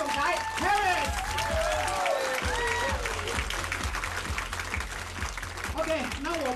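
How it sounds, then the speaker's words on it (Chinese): Audience applause at a Hong Kong Chinese business conference welcoming a diamond-rank executive to the stage, steady dense clapping filling the room, with music or a voice faintly underneath. "我想有请大家用热烈的掌声欢迎我们香港的双钻石总裁"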